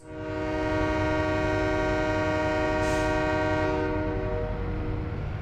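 Train in the video game Farming Simulator 17 pulling away with a loud, sustained horn blast over a steady rumbling rail drone, holding evenly for several seconds before easing slightly.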